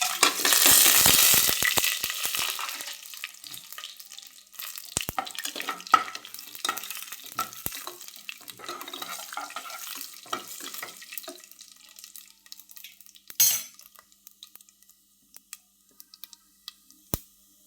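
Cinnamon, cardamom and fennel fry in hot oil for mutton biryani, starting with a loud burst of sizzling, then settling into faint crackles and scattered stirring clinks.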